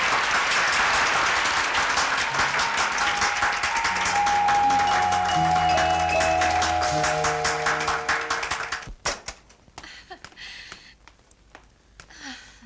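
A theatre audience claps for the composer of the songs, dense sustained applause over background music for about nine seconds before it fades away and thins to scattered sounds.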